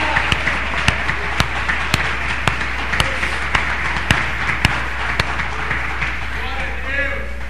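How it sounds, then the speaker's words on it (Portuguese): A church congregation claps in a steady, roughly regular rhythm, loud and close, with a voice speaking over the applause throughout. "Aplauda então. Se é para Ele, aplaudamos juntos. Mais forte, amados."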